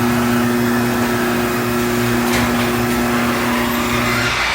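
Garage door opener driving the door closed, a loud steady motor hum with a constant whine and faint mechanical rattle throughout, no talk.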